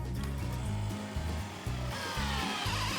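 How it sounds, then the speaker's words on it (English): A heavy-duty power drill bores into wood while building a rustic bird table, its motor whining in loud, pulsing bursts that rise and dip as the bit bites and is eased off. "obviously, this is quite a serious drill here"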